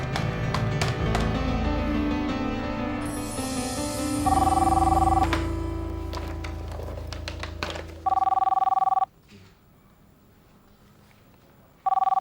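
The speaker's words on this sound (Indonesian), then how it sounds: "Nggak tahu aturan malam-malam begini telepon." Telephone ringing late at night in a quiet home, repeated bursts of a loud electronic ring separated by short pauses, with some music and background sound early on.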